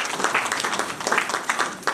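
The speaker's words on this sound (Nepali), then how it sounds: "ताली बजाइदिनुहोस्।" Wedding guests at a ceremony applaud together, a loud, dense burst of clapping close by that lasts the whole moment, with a few voices mixed in.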